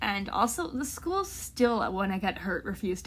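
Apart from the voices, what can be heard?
No everyday noise stands out behind the speech.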